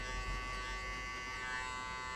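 An electric hair clipper opened halfway buzzes steadily and quietly while trimming a mid taper fade at a barbershop, a soft continuous hum with no talking.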